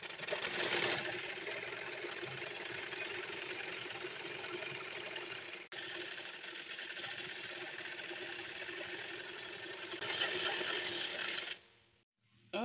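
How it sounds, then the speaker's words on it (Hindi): A sewing machine runs steadily, stitching along the folded edges of a doormat made from old clothes, with a continuous close mechanical whir for about eleven seconds before it stops. "इसको उल्टी तरफ इसको फोल्ड कर देंगे, और इसके किनारे किनारे पर ये सिलाई लगा देंगे।"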